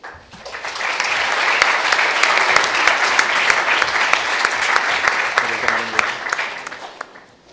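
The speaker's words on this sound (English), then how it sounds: "An applause for Marco Mazzarino." An audience at the opening of a school model UN conference applauds a visiting university guest speaker, with steady, dense clapping that holds loud and even for several seconds before tapering off at the end.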